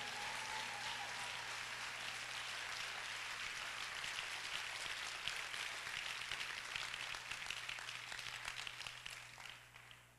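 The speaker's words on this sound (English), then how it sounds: "Clap and praise God." A church conference audience claps hard and steadily in a dense, rain-like wash of applause that holds for about ten seconds, then begins to thin out at the end.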